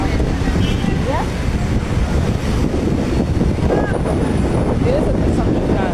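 Strong wind gusting across an open outdoor spot, a steady broadband rush buffeting the microphone throughout, with faint voices under the roar.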